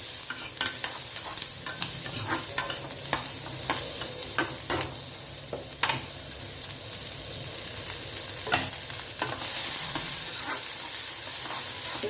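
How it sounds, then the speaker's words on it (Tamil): Thinly sliced onions with cumin, green chilli, curry leaves and carrot sautéing in a pan, a close steady sizzle broken by repeated scraping stirs at an uneven rhythm. "மெலிசாக வெங்காயம் வதங்கினா போதும்"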